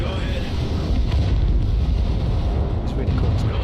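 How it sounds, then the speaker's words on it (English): A video game explosion in Crossfire: Legion booms loudly and fades into a long rumbling roar, with scattered gunfire-like cracks layered on top. "Check out that explosion."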